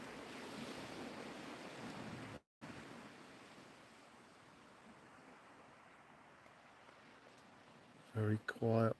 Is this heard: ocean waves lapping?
yes